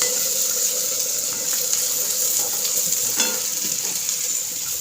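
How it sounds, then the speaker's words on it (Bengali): Sliced bitter gourd and onion fry in hot oil in a home kitchen pan, giving a steady, close crackling sizzle with occasional sharper pops and no talking. "দেখবে কি ভাজছি, এই যে উচ্ছে দিয়ে পেঁয়াজ দিয়ে ভাজা।"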